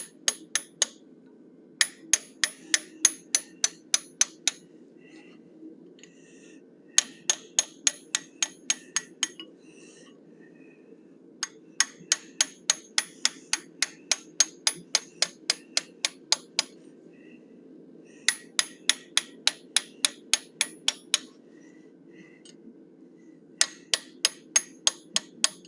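A hammer strikes a small curved chisel while a blacksmith forges and textures a steel cougar head. Sharp, ringing metallic taps come in quick rhythmic bursts of about ten, separated by short pauses, over a low background hum.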